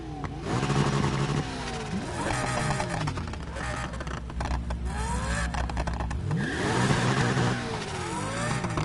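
Lamborghini Aventador S engine in Need for Speed Heat revving and roaring loud and close, with repeated rising and falling pitch sweeps as it accelerates and shifts gears, continuous throughout.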